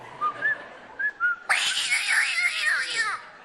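A man on a theatre stage imitates a cat with his voice: a few short whistled notes give way to a loud, drawn-out, wavering meow lasting over a second.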